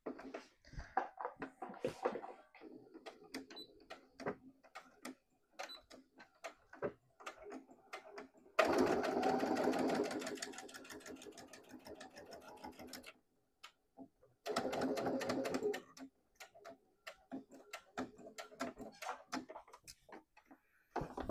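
A sewing machine topstitches along the side of a leather wallet, running in two short bursts of rapid stitching, each a few seconds long, separated by quieter handling and tapping sounds.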